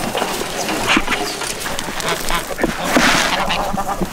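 Geese honking nearby with scattered calls from other fowl, a few loud bursts over a busy farmyard background.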